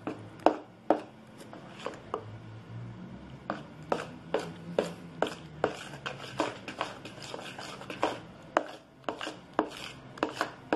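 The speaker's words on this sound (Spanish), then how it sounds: "Siempre hago mi mezcla a mano." Hot cake batter mixed by hand in a bowl, a rapid series of sharp knocking and scraping strokes against the sides, close and uneven in rhythm, with no talk.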